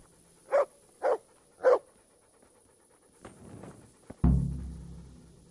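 Dog in the video game Kingdom Come Deliverance giving three short, evenly spaced barks, then some quieter panting, ending in a louder low thump.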